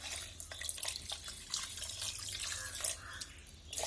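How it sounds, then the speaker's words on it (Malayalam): Water poured into a Kerala-style fish curry in a pot, a faint close splashing and trickling with small drips, no talking. "കുറച്ച് വെള്ളം ഒഴിക്കുക, മീൻ വേവാൻ മാത്രമുള്ള വെള്ളം ഒഴിക്കുക."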